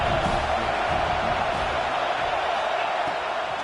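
Stadium crowd noise in the College Football 26 video game, a steady dense roar that holds at an even, loud level for the whole stretch without distinct cheers.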